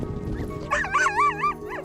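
Sled dogs on the Arctic ice yip and whine excitedly, rising wavering cries and short barks clustered over a second, close and clear above a low windy background.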